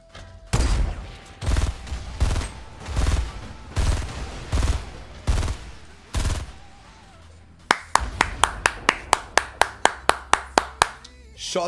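Pump shotgun blasts in a video game: first a slow series of loud, booming shots about a second apart, then a fast run of sharp, cracking shots in quick succession, near and punchy.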